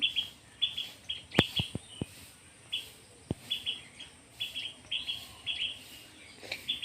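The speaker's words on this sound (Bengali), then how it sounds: "আর কোকিল ডাকছে এত সুন্দর পাখি ডাকছে চারিদিকে" Cuckoos and other birds chirp and call repeatedly at a distance in a village, a steady pattern of high calls over a quiet outdoor background, with a few brief clicks near the start.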